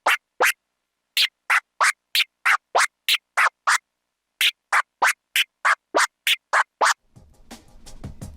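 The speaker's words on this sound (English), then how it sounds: "try one dice forward and then two dices back." Controller scratch pattern of one dice forward and two dices back, a rapid train of about twenty clipped, evenly chopped scratch strokes, loud and close, with a soft music bed entering near the end.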